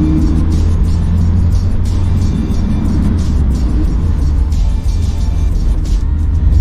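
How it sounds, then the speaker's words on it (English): Car on a road test drive after a pedal and gas extension upgrade, a continuous loud interior engine and road drone with mild revving, no talk. "Back out for another test drive."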